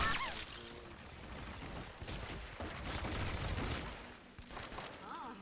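Quiet bursts of gunfire in the video game Hitman Absolution on a city street, scattered rapid shots layered over game ambience.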